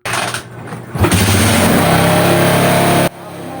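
A motorcycle engine revs up after a gasket repair, running loud and close for a few seconds before cutting off abruptly, with a brief burst of talk near the start.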